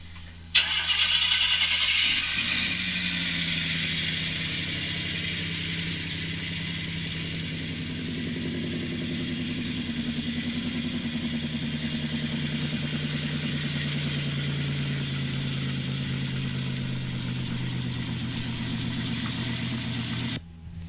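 A car engine idles steadily for about twenty seconds after a brief start-up surge, a low continuous rumble with an even hum, close and alone with no talking.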